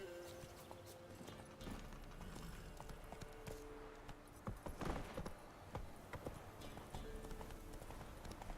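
The horse Roach gallops in The Witcher 3 with quick, rhythmic hoofbeats heard fairly faintly beneath ambient game sound, with a few heavier thuds midway.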